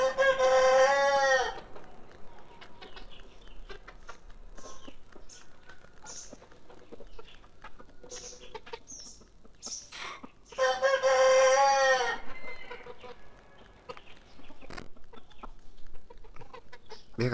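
A young jungle fowl rooster crows twice in the morning sun, two loud close cock-a-doodle-doo calls about ten seconds apart, with soft clucks and scattered small outdoor noises between them.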